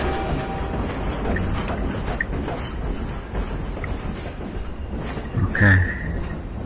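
A train rolling along in the video game Half-Life 2, with steady rumbling and rhythmic clickety-clack of wheels on rails, ending in a brief louder metallic clank near the end.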